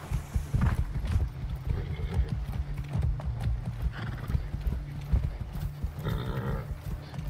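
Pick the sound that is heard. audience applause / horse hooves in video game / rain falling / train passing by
horse hooves in video game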